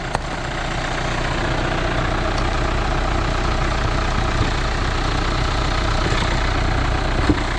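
A Hyundai Santa Fe DM's engine idles with the hood open, a steady loud mechanical hum and rumble that holds even throughout, with no voices.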